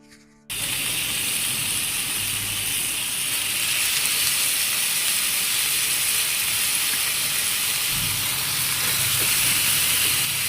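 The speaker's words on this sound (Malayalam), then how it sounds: "ഇനി നന്നായിട്ടൊന്ന് ചൂടായി വന്നതിന് ശേഷം അതിലേക്ക് ഓരോ മീനുകളായിട്ട് വെച്ച് കൊടുക്കാം" Loud steady sizzling hiss of hot oil as fish go in to shallow-fry for a homemade fish mandi, starting abruptly after a quiet moment and continuing without pause.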